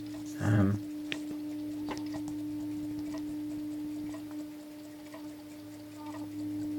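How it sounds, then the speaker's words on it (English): A faint, steady electric hum from a tuning fork clock movement's vibrating tuning fork, with a constant pitch droning throughout, a brief soft knock near the start and light background noise. "I'm hoping you can hear this hum, and that's the tuning fork vibrating."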